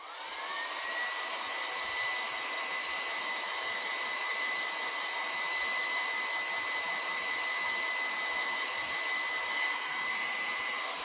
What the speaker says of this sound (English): I'm going to just quickly blow dry it on low